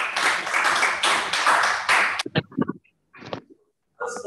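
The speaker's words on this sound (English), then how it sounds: "A round of applause for you again." Audience applause at a press conference for an e-payment certification launch, a burst of many hands clapping for about two seconds, then cut off into a few scattered claps and quiet gaps.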